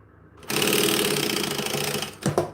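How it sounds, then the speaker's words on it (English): A sewing machine stitches a fabric market bag in one fast, loud, continuous run of rapid mechanical chatter, then stops and gives two short final bursts. "sew this up again"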